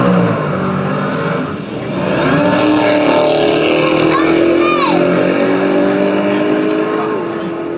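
A drag race car with a radial rear tyre launches off the line at a muscle car show, a loud engine roar that dips briefly then surges and rises in pitch as it pulls away, with crowd noise underneath.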